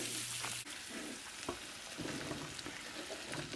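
Butter sizzling in a pan still holding browned bits from seared Salisbury steak patties, a faint, steady crackling hiss with a light knock near the start and scattered small pops.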